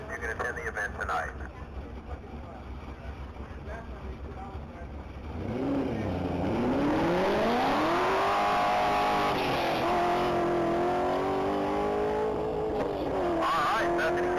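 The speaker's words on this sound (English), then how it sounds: "That's a 2015 Chevrolet Camaro, Z28." A 2015 Chevrolet Camaro Z28 on a mile-long top speed run at The Texas Mile rises through gears with a loud climbing engine note and brief dips at each shift, following quieter ambience and faint talk.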